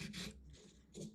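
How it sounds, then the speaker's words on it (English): Sandpaper rubbing a small wooden piece on a table, two short rasping strokes with a pause between, close and quiet. "I'm shaking the whole table with my sandpaper"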